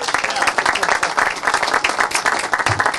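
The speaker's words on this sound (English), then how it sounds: "Can we give her a round of applause?" Audience at a groundbreaking ceremony claps in sustained, dense applause lasting several seconds, loud and close, with voices mixed in beneath the clapping.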